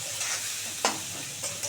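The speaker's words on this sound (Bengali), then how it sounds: "একটু ভাজা ভাজা করে নিই বন্ধুরা" Dried fish and mixed vegetables frying in a pan for a chachchari, a close steady sizzle with a brief scrape of stirring midway and no talk.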